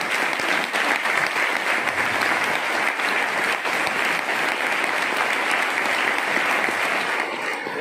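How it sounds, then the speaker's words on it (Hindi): A crowd at an RCM business meeting in Varanasi claps steadily and loudly for a colleague's celebration, a dense, sustained applause that runs throughout with no talk. "एक बार ताली बजा दीजिए उनके लिए।"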